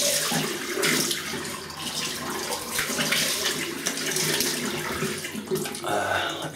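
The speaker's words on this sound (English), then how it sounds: "Okay, let me have a quick rinse." Tap water runs steadily into a bathroom sink as a face is rinsed after shaving, a close, continuous splashing stream with small shifts where hands break the flow, and no talk over it.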